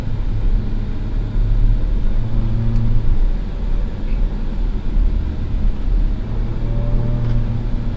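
A 2024 Ford Ranger Raptor V6 engine idles and hums steadily in quiet exhaust mode with a low, muted drone and a slight rise in revs, close by and without speech.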